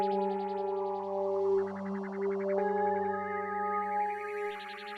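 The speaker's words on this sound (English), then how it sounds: "So yeah, it's like a synthy, almost piano kind of sound" Synthy, almost piano-like texture from the Atlan synth in FL Studio, sustained tones layered with quick rippling arpeggiated notes that step upward in pitch, smooth and steady throughout.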